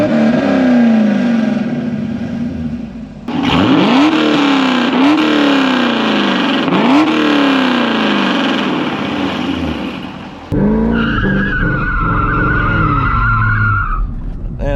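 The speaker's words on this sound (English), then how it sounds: "Sound that a Corvette makes, you just can't really compare it to anything." Chevrolet Corvette C6 with a full exhaust revs hard and loud up close, with repeated rising and falling engine sweeps, tyre squeal, and a sustained high note near the end.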